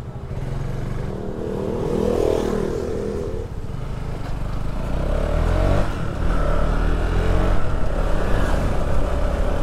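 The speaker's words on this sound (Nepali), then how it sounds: "बाइकको त फुल नोइज बन्द भयो यार।" A KTM Duke motorcycle with a newly fitted silencer idles and revs in a workshop: a steady, close engine rumble that swells slightly toward the end, with no talk.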